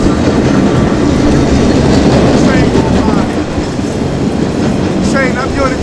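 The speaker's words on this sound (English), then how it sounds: "Train, I'm on the train" A moving train rumbles loudly from inside the car, with a steady heavy roar and faint rhythmic clatter of wheels on rails throughout.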